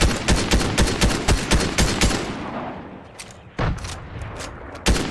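Fortnite gunfire rings out in a fast, evenly spaced volley of loud shots, then a lull with a couple of isolated heavy shots near the end.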